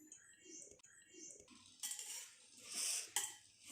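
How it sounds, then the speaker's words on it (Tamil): A spoon stirs raw mango rice in a metal pan, giving close, soft scraping and clinking sounds in irregular strokes with brief louder scrapes toward the end. "நல்லா மிக்ஸ் பண்ணி விட்டுருலாம்."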